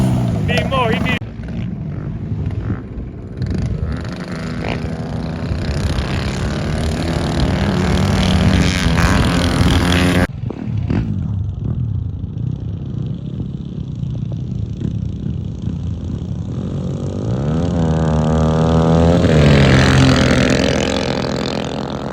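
A mini bike engine buzzes and revs at a Cahuilla Creek motocross dirt bike track, rising and falling in pitch with a loud close pass midway, while people talk over it.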